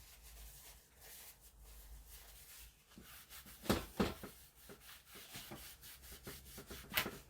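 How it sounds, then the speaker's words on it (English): A fingernail scrapes across a drying, slightly sticky junk journal page, giving soft, close rubbing and scratching strokes with a few sharper scrapes in the middle and near the end. "I scraped it with my fingernail."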